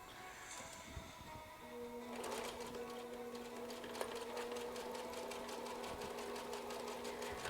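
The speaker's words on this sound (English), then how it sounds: "So every time I start sewing, I usually end up going forward and backing up a little bit." A sewing machine runs steadily, stitching a patchwork coat with a brief stop-and-start as it goes forward and backs up, then a continuous even whir close by, with no talk.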